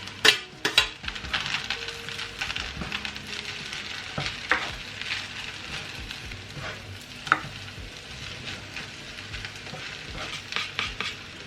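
Egg frying together with kangkong leaves in a pan, a steady close sizzle broken by scraping stirs and a few sharp clacks of utensil on metal, with no voices.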